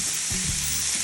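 Taco filling browning in a pan, a brief close sizzle with a soft bump or two from a spatula, no voices.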